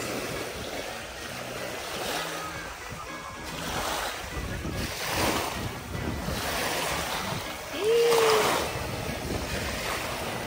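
Ocean waves break and wash steadily onto a beach, a continuous surging hiss with swells rising and falling, and wind buffeting the microphone throughout.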